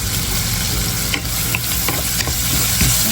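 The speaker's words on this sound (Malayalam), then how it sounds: "നീളത്തിൽ തന്നെ അതിട്ട് വഴറ്റുക." Sliced onions, cut lengthwise, sauté and get stirred in a pan for a Kerala chicken curry, giving a steady close sizzle with scraping stir strokes around the middle and end of the clip, no talking.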